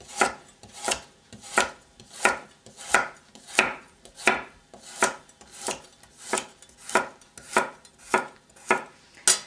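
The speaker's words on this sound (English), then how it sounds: "I'm going to be cutting lengthwise." Knife slicing a carrot lengthwise on a cutting board, julienne prep, with a steady series of crisp, evenly spaced chops, about sixteen sharp strikes close by with no talking.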